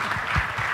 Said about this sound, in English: give a round of applause to our panelists here